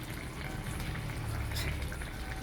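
Ginataang langka, jackfruit cooked in coconut milk, boils in a pot with a steady, close bubbling simmer that runs unbroken throughout.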